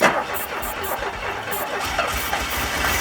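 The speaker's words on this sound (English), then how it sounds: "I was even able to get this old engine to fire after sitting for 32 years" An old DeLorean engine firing up after sitting for 32 years, cranking and catching into a rough, uneven running rumble heard up close.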